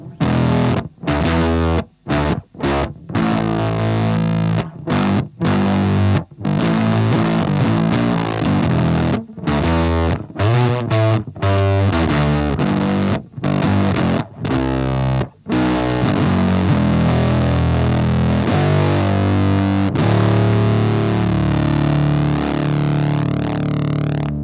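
Bass guitar played through an Ibanez FZ7 fuzz pedal with damage set to 100%, a loud, heavily distorted, buzzing, broken-up tone with choppy, gated notes and short gaps, then sustained notes ringing out toward the end.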